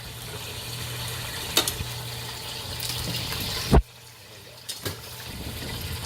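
Alcohol boiling off in a pan of Bolognese sauce, giving a steady close bubbling sizzle broken by a few sharp clatters and knocks, with one abrupt drop in the noise midway.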